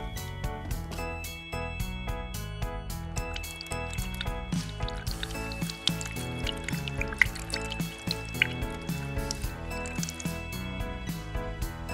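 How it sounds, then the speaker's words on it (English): Water trickles and drips into a toy saucepan in a play kitchen, with soft squishy, splashy sounds heard faintly under steady background music. "Let's add some water."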